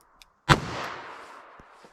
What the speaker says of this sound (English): I'm just going to run a couple rounds through each barrel length through the chronograph